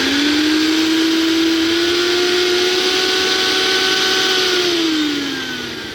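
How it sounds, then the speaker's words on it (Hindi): A repaired kitchen mixer grinder, fitted with a new overload switch, runs at high speed with a loud, steady motor whine and a slight pitch drift before it begins to wind down. "बड़ी तेज़ी से ही मिक्सी चल रही है"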